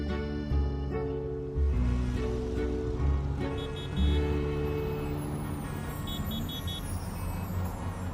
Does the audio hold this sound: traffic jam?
yes